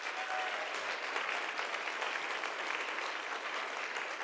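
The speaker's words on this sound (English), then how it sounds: "So could we get a round of applause for Allison" Steady, even applause from a live podcast audience in a hall, a continuous wash of many hands clapping at a constant level without pause for several seconds.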